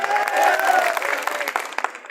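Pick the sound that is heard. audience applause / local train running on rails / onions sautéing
audience applause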